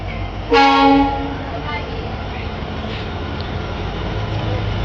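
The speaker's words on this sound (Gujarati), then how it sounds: "બીજી બાજુથી બીજી ટ્રેન આવી રહી છે" A freight train horn blares briefly, then the rumbling freight train rolls past steadily, the low rattle continuing to the end.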